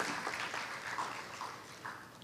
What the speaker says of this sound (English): give one more big round of applause to all of the backstage help, the gurus and the orchestra